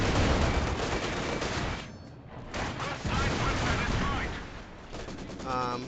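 Machine gun fire in a competitive match of a video game battle, dense rapid bursts of gunfire running almost without a break, loud and close, with a voice talking underneath.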